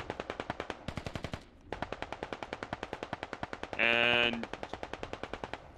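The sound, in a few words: AK rifle gunfire in video game Operation: Wicked Gardens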